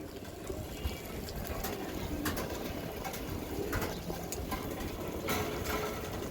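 Racing club pigeons coo softly against a busy, noisy background, their low throaty calls recurring now and then amid scattered clicks and knocks.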